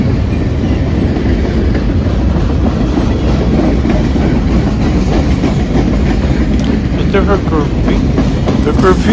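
A long cargo train rolls steadily past close by, a continuous loud rumble of freight cars with rhythmic wheel clatter on the rails and a faint squeal near the end.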